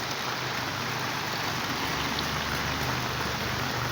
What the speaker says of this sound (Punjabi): بارش ਹੋ ਰਹੀ ਹੈ ਮੀਂਹ ਦੇਖੋ